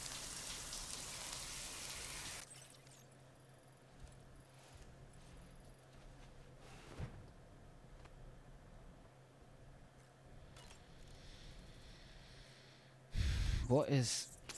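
In the video game Death Stranding 2, a shower sprays with a loud hiss for the first couple of seconds and then cuts off, followed by quiet ambience and some breaths near the end.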